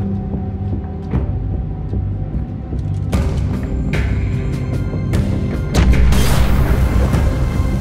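A bomb explosion in the video game The Walking Dead, a heavy booming blast and rumbling debris rising over a low background rumble, growing louder and fuller toward the end.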